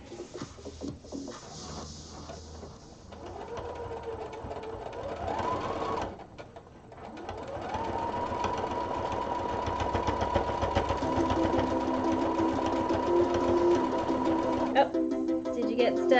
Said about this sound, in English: I like this machine because it's an automatic buttonhole.